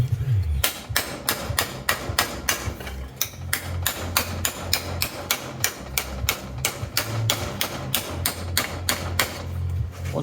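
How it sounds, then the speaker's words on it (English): Rapid, evenly spaced hammer blows ring sharply on floor sheet metal, bending it over an edge, one after another in a steady rhythm for the whole stretch. "I'm just trying to kind of hammer over it just to start creating that bend"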